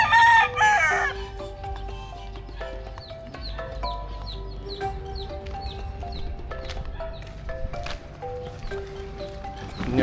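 A rooster crows loudly and close by at the start, and quieter clucks and other background sounds follow in a busy outdoor setting.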